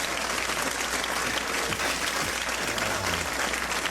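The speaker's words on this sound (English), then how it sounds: "Give her a big round of applause." Steady, dense applause from a studio audience at a TV comedy show fills the whole stretch, loud and continuous without a break.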